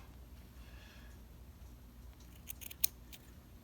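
Scissors snip through yarn while a baby hat is crocheted, giving a few quick, quiet clicks near the end over a soft, steady room hiss.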